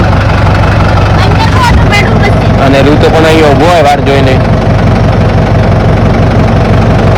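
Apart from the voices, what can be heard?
tractor engine running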